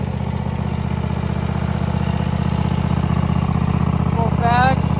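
A Cub Cadet RZT zero-turn mower with a 50-inch deck and bagger runs at a steady, close idle, its low engine drone even and continuous, with a brief voice near the end.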